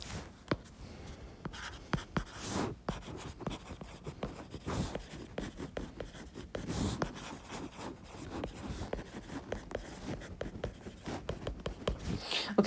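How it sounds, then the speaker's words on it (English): Close, soft scratching and rubbing of a pen on paper as math is worked out by hand, with irregular taps and strokes running throughout and no voices. "So let me write that down."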